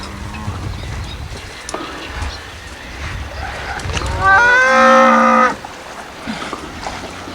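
Cattle swimming across a river in Ukraine let out one loud, drawn-out moo of a few seconds near the middle, over faint outdoor ambience and water noise.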